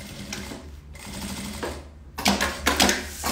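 Sewing machine stitching synthetic fabric for a lunch bag, running in steady close mechanical bursts that stop briefly and then start again louder.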